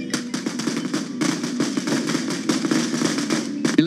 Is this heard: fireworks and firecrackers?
yes